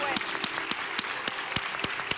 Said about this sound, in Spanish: yo quisiera que le diéramos un gran aplauso